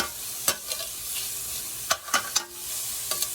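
Bacon fries in a pan while cabbage is being prepared, a soft continuous sizzle broken by several sharp pops and scraping stirs.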